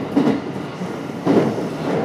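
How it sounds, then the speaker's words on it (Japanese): A JR 227 series eight-car rapid City Liner train runs on the Sanyo Line out of Hiroshima, its steady rolling rumble broken by two loud rhythmic clickety-clack bursts as the wheels cross rail joints. "この電車は快速シティライナー岩国行きです"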